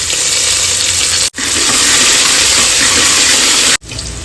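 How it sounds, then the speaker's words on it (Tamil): Garlic, onion and curry leaves frying in hot oil in a pot, a loud steady sizzle filling the space close up, briefly cutting out twice, with no voices. "பூண்டு வந்து கொஞ்சமா செவந்து வரட்டும்."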